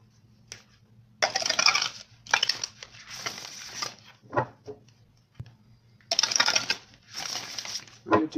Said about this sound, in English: I'm going to do one more shuffle and then we'll get these cards out